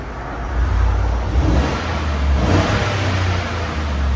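Close, loud rev from a 2015 GMC Sierra SLT 5.3L V8 fitted with Borla Touring exhaust, a steady low rumble rising and holding through several seconds, with a second push near the end and no speech.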